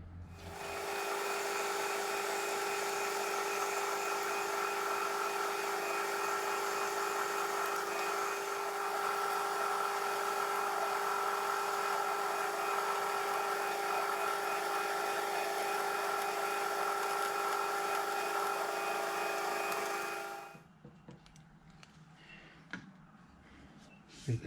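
A freshly ground 1/2 inch drill bit bores into metal after a centre drill, a loud steady whine holding for about twenty seconds before stopping abruptly into quiet workshop noise.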